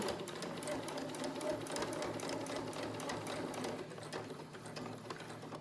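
A sewing machine back stitches the ties onto a fabric face mask, its needle running in a steady, fast mechanical whir that holds constant and close throughout.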